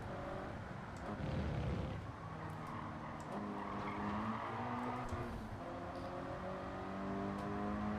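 Race car in Gran Turismo 7 sliding through lift-off oversteer, with continuous engine drone and tire squeal and a brief louder skid burst near the start, heard alone without talk.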